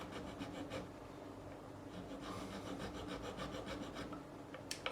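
Filing string slot notches into the nut of a Fender Jim Root Telecaster, a steady close-up rasping scrape with repeated short strokes throughout.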